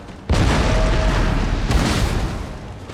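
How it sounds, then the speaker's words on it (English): Cannon artillery fire in the Empire: Total War strategy game, heard as a sudden loud boom that opens into a long rumbling roar of battle, with a second burst about a second and a half later. "Give our cannons a target."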